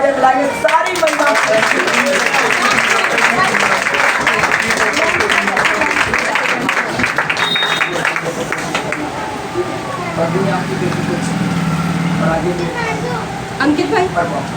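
A church congregation at a Sunday meeting claps loudly and continuously, with crowd murmur and voices mixed in throughout.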